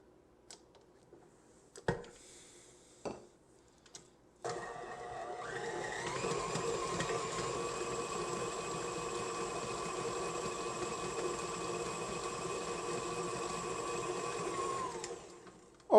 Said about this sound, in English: we're going to give it about another minute at medium speed on my mixer